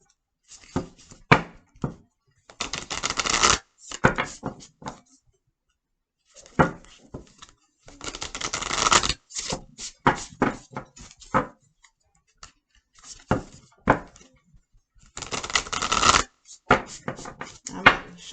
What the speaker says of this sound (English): I'm shuffling for a while